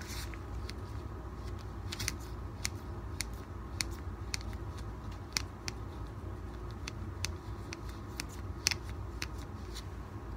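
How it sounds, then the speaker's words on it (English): Cheap scissors are used to pry something open, giving quiet, close metallic clicks and snips in an irregular series over a soft steady background. "I'm just gonna use a couple of scissors, the cheap method, to simply pry you open"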